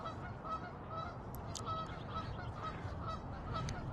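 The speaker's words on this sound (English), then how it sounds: "You hear the goose?" Geese honking outdoors amid city street noise in New York City, with several short calls scattered through a steady background hum.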